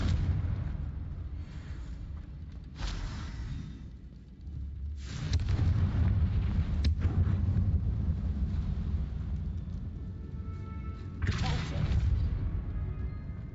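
Spell blasts smash a barricade in Hogwarts Legacy, a series of deep booming explosions and crashing impacts with rumbling debris, loud and close, spaced irregularly with brief pauses between.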